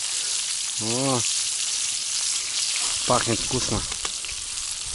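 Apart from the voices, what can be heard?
fish frying in oil in a pan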